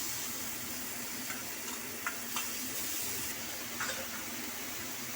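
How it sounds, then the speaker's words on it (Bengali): Chopped onion fries in a hot pan with a steady, loud sizzle that fills the whole clip. Occasional scrapes come through as it is stirred, and no one talks. "এবার এর মধ্যে আমি চপ করা পেঁয়াজটা দিয়ে দেব।"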